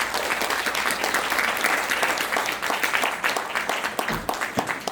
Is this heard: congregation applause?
yes